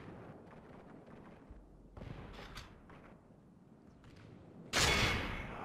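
Massed gunfire in a Medieval 2 Total War battle set in the American Civil War, with a low rumbling din of distant shots and a loud, sharp burst near the end.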